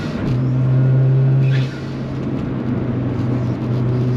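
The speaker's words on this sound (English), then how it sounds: "I was slipping the tyres then." An engine-swapped VW Caddy TFSI van accelerating hard with its tyres slipping, a loud close engine drone and whir that eases off partway and holds steady, no talking.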